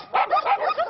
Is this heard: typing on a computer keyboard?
no